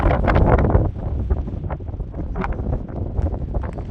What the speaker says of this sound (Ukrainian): Ох, і дує страх.